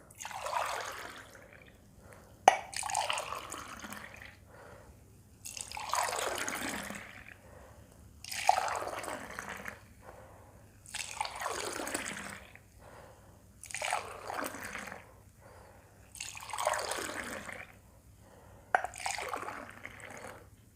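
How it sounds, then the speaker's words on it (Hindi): Soaked amla is whisked in a clay cup, giving about eight rhythmic swishing, sloshing liquid strokes spaced a couple of seconds apart, close and clear with no talk. "तो मैंने इसमें आंवला डाल रखा है, ये भिगो रखा है 1 चम्मच। तो मैं अब इसको फेंटूँगा।"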